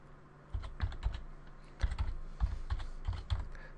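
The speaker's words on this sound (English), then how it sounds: "we're going to type this out quickly so you can see" Quick bursts of computer keyboard typing as a command is entered, clustered keystrokes with short pauses between them, close and fairly quiet with no voices.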